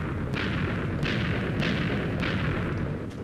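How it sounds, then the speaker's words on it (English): Explosions in the video game Minecraft go off as a run of loud, rumbling booms with sharp bursts about every half second, filling the whole clip with no voices. "It's quite satisfying, though, that nice explosion."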